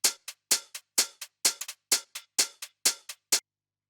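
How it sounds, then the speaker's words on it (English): A crisp hi-hat sample from a house track ticks in a steady, syncopated groove of short bright hits with a few quicker doubled strikes, played alone and cleanly before stopping. "We have our main hat, which sounds like this."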